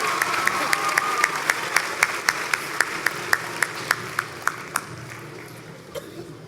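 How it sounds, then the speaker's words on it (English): A graduation crowd at a Morgan State University spring commencement claps for the choir in an even, rhythmic unison beat that fades out toward the end. "Let's give our choir another round of applause,"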